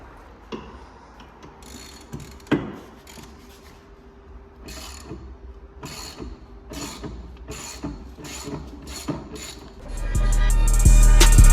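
Ratchet working T45 Torx seat bolts on a Vauxhall Corsa C, with repeated rapid clicking bursts, close and loud, ending in a louder sustained mechanical rattle.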